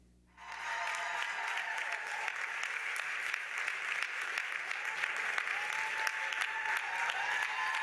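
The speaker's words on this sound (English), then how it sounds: "her audience burst into applause and gave her a standing ovation" A large audience bursts into sustained applause and a standing ovation for Angela Davis as she arrives before reaching the podium in New York, steady dense clapping rising quickly and holding loud throughout.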